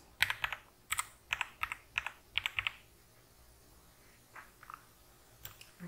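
Quick bursts of clicking keystrokes on a computer keyboard, several tight clusters of taps in a row, then a few slower, fainter presses; close and quiet with no voices.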